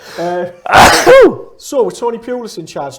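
A single sharp sneeze from a man during a football talk show, followed straight away by people speaking.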